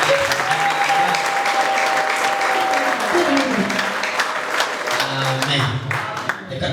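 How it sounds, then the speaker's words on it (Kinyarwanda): A church congregation applauding, a dense continuous wash of clapping from many hands that stays strong and only thins slightly at the end, with a voice speaking over it. "Reka dukomere n'ay'Imana."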